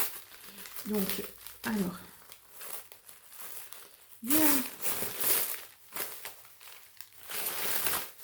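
Plastic cling film crinkles and rustles in short bursts close by as it is removed, while a person speaks briefly in French between the handling sounds.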